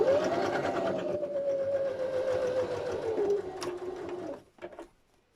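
A sewing machine runs steadily as it stitches a zipper bag, a continuous close whirring drone that slows and stops near the end, followed by a couple of brief mechanical clicks.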